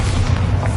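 A deep, rumbling blast from the Bombarda explosion spell in the video game Hogwarts Legacy, a single short, heavy boom that fills the moment.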